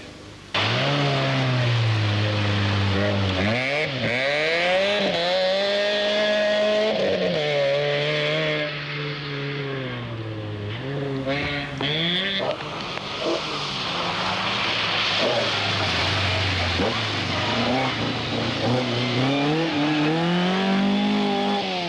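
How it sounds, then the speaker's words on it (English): Rally cars race in a 1995 national rally on a slippery, wet-feeling surface. Loud, continuous engine roar rises and falls in repeated revving sweeps as they drive past, with no voices. "crews were then driving on a surface more akin to the first day of the RSC Rally"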